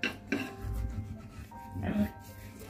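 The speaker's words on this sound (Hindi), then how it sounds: "ब्रश की मदद से हम सब जगह लगा लेंगे।" A brush scrubs detergent powder over oily grease inside a home kitchen chimney, giving close, repeated rasping strokes in short bursts under faint background noise.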